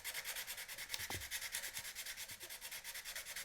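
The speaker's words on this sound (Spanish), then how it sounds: "Solo la lija rasga el silencio de este taller de guitarras eléctricas" Sandpaper rubs back and forth across an electric guitar body in a guitar workshop, a close, steady rhythmic rasp with a faint low knock partway through.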